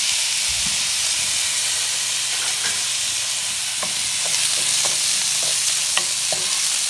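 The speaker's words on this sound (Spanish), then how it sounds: "Solamente lo vamos a freír un poquito para que no se deshaga y quede esponjadito." Rinsed white rice fries in oil in a pot, giving a constant close sizzle and hiss broken by scraping and tapping as it is stirred, with no voices.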